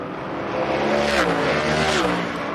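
Winged pavement sprint cars lap the Bullring at Las Vegas Motor Speedway during a practice session, their engines roaring loud and close as they rev and sweep past, with no talking.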